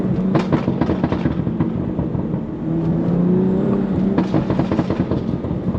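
BMW M4 with a titanium exhaust, idling and burbling with uneven crackling pops and a low rumble, close up, with a brief rise in engine note midway.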